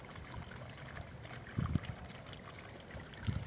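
Water trickles gently in a garden birdbath kept running by a plugged-in pump, a soft continuous flow with a couple of brief louder splashes, with no voices over it.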